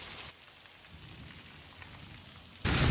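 Heavy rain pours steadily onto a flooding courtyard during a loud thunderstorm, a broad constant wash with sharp bursts of louder noise at the very start and end.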